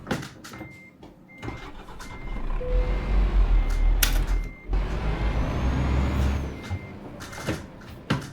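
A Scania T500 truck in Euro Truck Simulator 2, a modded game, starts up with beeping warning chimes and clicks before a low engine rumble rises and idles, dipping briefly before settling.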